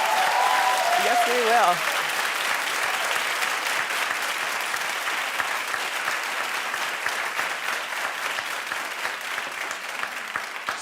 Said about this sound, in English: So, you clap very loud, sir. You're a loud clapper.